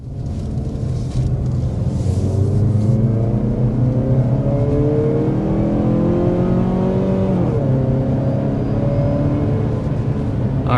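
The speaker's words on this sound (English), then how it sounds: "let's start out with a hard acceleration" A 2026 Mazda CX-30 accelerating hard, engine note rising loud and steady from inside the cabin, with pitch climbing through gears and a brief dip at a shift midway.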